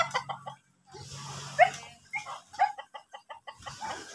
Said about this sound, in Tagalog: tumutuka pa po mga alagang manok